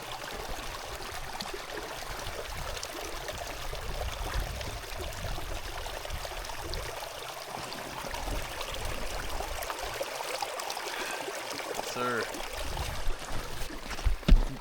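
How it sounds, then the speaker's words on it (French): A small stream flows in cold winter weather near Mont du Lac-à-l'Empêche, a soft continuous trickle of running water with faint rustling throughout, fairly quiet and steady, with no voices. "on voit un ruisseau d'ici"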